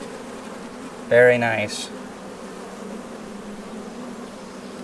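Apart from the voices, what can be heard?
honeybees buzzing at an open hive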